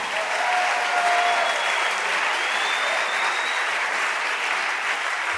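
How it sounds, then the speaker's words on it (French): Congregation applauding in a church service, broad sustained clapping filling the space at steady loudness throughout, with a faint voice or tone drifting above. "Oh, acclamons Jésus. Acclamons Jésus"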